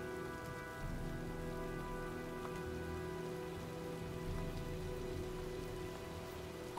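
Steady rain pours in a storm in the video game Heavy Rain, a dense, even patter on surfaces with no voices, constant from start to finish.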